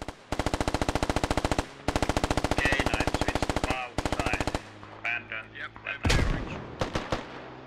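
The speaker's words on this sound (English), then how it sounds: "Right now, they're just still trading AR wounds at long range." Long-range assault rifle fire in the military shooter game Squad: sustained rapid automatic bursts, loud and continuous, broken by short gaps, then scattered single shots and a heavy boom near the end.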